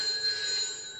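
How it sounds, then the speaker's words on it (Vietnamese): A telephone rings in a Vietnamese comedy music film, a steady bright electronic tone held for about a second with no voices. "Điện thoại kìa, điện thoại ai điện?"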